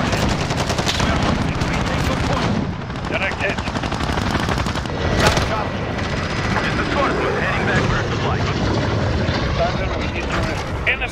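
Rapid bursts of automatic gunfire from a Call of Duty Modern Warfare Domination match on the Shoot House map, dense rattling volleys with sharp single shots mixed in, loud and near, layered over game sound effects and voice callouts.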